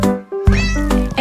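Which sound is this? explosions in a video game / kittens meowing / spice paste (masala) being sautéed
kittens meowing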